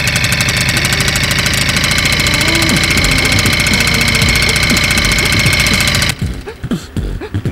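A motorhome generator engine runs with a loud, steady, close mechanical drone and rapid rhythmic chugging, then cuts off abruptly near the end, leaving faint knocks and a quieter background.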